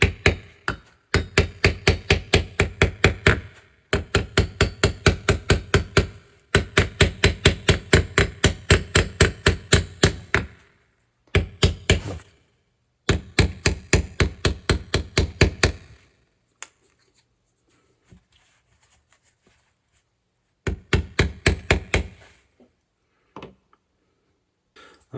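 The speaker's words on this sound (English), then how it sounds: "I'm going to go ahead and finish hammering this off all the way around" A small brass hammer taps a capacitor's metal casing in rapid, steady runs of sharp clicks, broken by short pauses, close and clear with quiet gaps between bursts.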